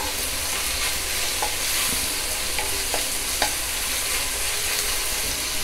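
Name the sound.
onion and tomato frying in a pan on high flame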